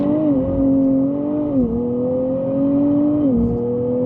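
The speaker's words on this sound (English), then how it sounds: "Let's just rip through the gears and see how it sounds." A 2025 Nissan Z Nismo pulls hard from a stop in first gear, its engine note climbing steadily, dropping sharply at each upshift and rising again through the gears. Loud and close, with no voices.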